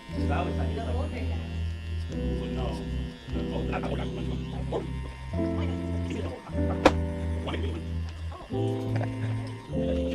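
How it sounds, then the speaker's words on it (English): Electric hair clippers buzz close and steady while cutting a taper haircut, their hum shifting pitch in steps as the blade moves against the hair, with a person talking over them throughout. "As we get close to the 3, we're gonna take our clipper off his head and kind of glide it in that same shape"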